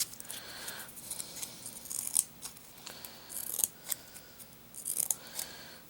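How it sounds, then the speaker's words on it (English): The tiny scissors of a Leatherman Squirt PS4 multitool snip open and shut in several crisp metallic clicks, spaced irregularly and heard up close against quiet room noise. "Yay, scissors."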